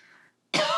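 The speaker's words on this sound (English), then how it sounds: "So let's just do 2 good coughs together." A single sharp, forceful cough close by, following a brief faint breathy sound and a moment of silence.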